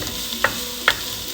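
Beef and mushrooms browning in a pan for an Italian vegetable beef stew, a steady close sizzle broken by two quick scraping stirs, heard alone.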